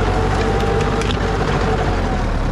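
A malfunctioning tractor-mounted flail mower working vineyard rows gives a steady, loud, dense grinding and rattling roar, with harsh splintering crackles over a continuous low mechanical rumble, and no talk.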